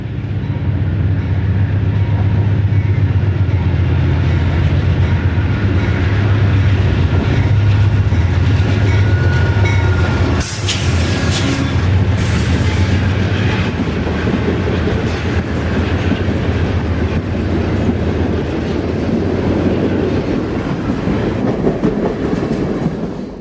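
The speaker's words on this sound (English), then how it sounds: "the bi-level train is quite a sight as it rolls through Ashland" A bi-level Amtrak Superliner passenger train rolls past close by through the street in Ashland, its wheels clattering rhythmically in a loud, sustained rumble, with a brief metallic burst midway.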